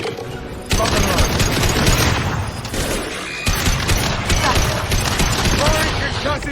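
Dense bursts of automatic gunfire and explosions from the video game Mass Effect 2 pound almost continuously, loud and close, after a brief quieter opening.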